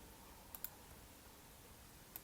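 A few faint, sharp clicks of a computer mouse and keyboard while deleting shapes in PowerPoint, spaced irregularly over a quiet background with no talking.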